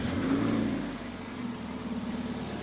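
A car engine with a misfire runs close by, a steady low rumble that rises briefly then settles, with an uneven, slightly stumbling pulse throughout.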